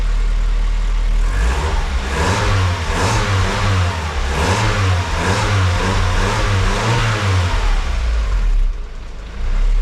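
Vauxhall Astra petrol engine with a Peco Big Bore 1 backbox exhaust, revved several times in rising and falling swells over a loud, deep idle, heard close and alone.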